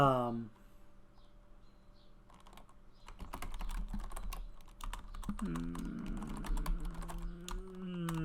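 Typing on a computer keyboard during character creation in the game Ashes of Creation, a flurry of quick close key clicks in uneven bursts, with a person talking over parts of it.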